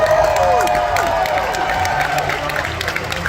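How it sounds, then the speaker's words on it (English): Crowd applauding and cheering at a red carpet film premiere in Los Angeles, continuous dense clapping with whoops and bright whistling calls, loud and busy throughout. "but one more applause for him."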